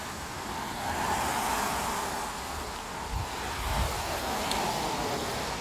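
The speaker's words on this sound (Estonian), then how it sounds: "Hommikune veel küllalt värev liiklus" Morning street traffic rolls through Pelgulinn in Tallinn, a steady wash of road noise with a couple of cars passing by at moderate distance, a low rumble over a broad hiss, no talk.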